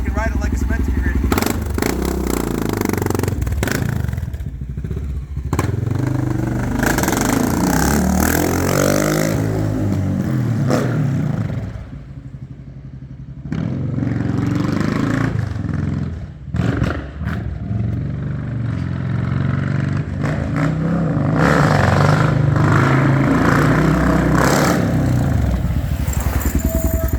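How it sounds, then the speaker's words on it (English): A 2021 Honda XR650L single-cylinder dual-sport bike idles and revs nearby, its exhaust rising and falling in bursts with a short quieter gap midway, and someone talks over the engine. "Feel the exhaust hitting you from 6-8 feet away."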